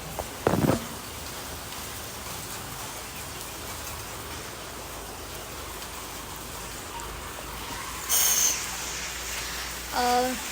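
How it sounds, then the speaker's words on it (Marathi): Steady, dense rain pours down with a constant hissing roar, broken by a few brief louder sounds; a voice briefly speaks over it. "खूप असा पाऊस पडतो"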